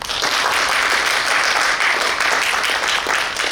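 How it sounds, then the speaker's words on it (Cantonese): Warm applause from an audience welcoming a guest kung fu master at a Hong Kong martial arts gathering, steady dense clapping sustained throughout at close range. "我哋以熱烈嘅掌聲歡迎我哋今晚嘅嘉賓歐國成師傅"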